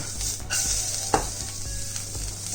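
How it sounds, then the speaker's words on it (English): Shredded coconut stirred and tossed in a hot pan, browning at the edges while being toasted for mutton xacuti, giving a steady close sizzle with scraping stirs and one sharper clack of the utensil against the pan. "Make sure you keep stirring it, tossing it, because you want that heat, you know, on all the sides of the coconut."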